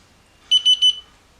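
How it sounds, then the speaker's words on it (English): Three quick, high electronic beeps from a digital meter during ring lapping, in a short even run, sharp and close, against an otherwise quiet background. "Those beeps tell me we're getting close."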